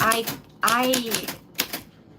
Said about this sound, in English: That's what your name sounds like on the typewriter.